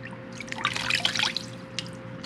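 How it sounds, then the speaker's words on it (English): Tap water runs and splashes briefly as a face is washed after a safety-razor shave, a short close burst of trickling and dripping over a low steady hum. "Let's wash the face real quick."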